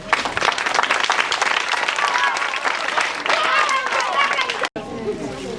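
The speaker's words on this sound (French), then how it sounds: "On va applaudir pour eux et je vais les présenter" A crowd gathered at a peace event claps loudly and continuously, with cheering and chatter mixed into the applause, until it cuts off abruptly near the end.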